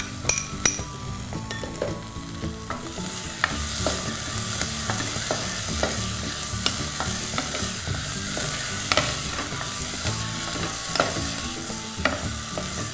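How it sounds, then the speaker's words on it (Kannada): Tomatoes fry for Udupi sambar, sizzling steadily while a spoon stirs and scrapes the pan with repeated clinks and taps, no talking. "ನಾನು ಟೊಮ್ಯಾಟೋ ಇವತ್ತು ಹಾಕ್ಕೊಳ್ತಾ ಇದ್ದೀನಿ."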